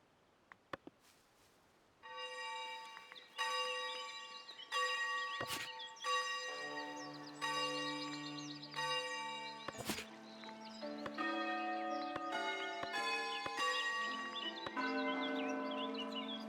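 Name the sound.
church bells ringing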